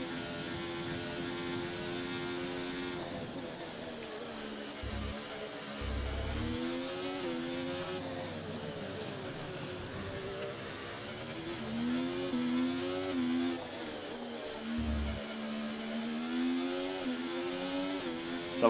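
Formula 1 car lapping the Singapore Grand Prix street circuit in the F1 24 racing game, its engine whine climbing and falling steadily through gear changes at moderate level with no talk.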